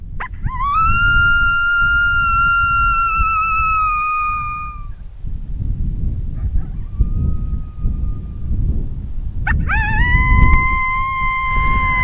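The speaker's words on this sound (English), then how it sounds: "as soon as we laid that first howl out, we immediately had responses" A long, drawn-out coyote howl call used while coyote hunting along a fence line on a misty day: loud sustained rising tone for about four seconds, a faint answer, then another howl, over wind noise outdoors.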